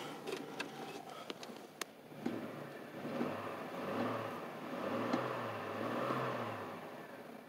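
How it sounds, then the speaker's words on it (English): A 2004 Chevrolet Trailblazer LS engine revs up in low, rumbling swells several times, a steady idle hum between them, with a few sharp clicks early on and no talk. "Let's give it a little rev."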